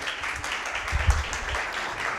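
A congregation claps together to welcome the pastor at a Saturday church service, a steady wash of applause at moderate level, with a few louder low thumps near the middle.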